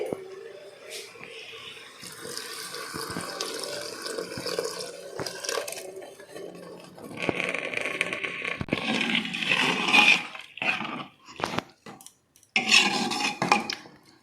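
Powdered milk stirred with water is poured back into a pressure cooker, giving a close, splashy pour with scattered metal clinks of pots and utensils, broken by short pauses.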